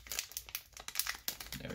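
Crinkly plastic wrapper of a Topps baseball card fat pack being worked open, with rapid close-up crackling and tearing rustles in quick irregular bursts, fairly quiet and with no talking.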